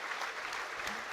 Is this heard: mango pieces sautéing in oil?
no